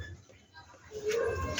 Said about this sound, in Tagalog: At meron din po kaming mga alagang ibon.